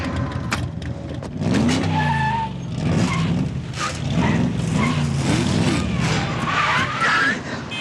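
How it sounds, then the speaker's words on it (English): A high-performance race car on a test drive, its engine revving in rising and falling sweeps with bursts of tire squeal, loud and close throughout the run. "a high-performance race car doesn't exactly operate like a family minivan"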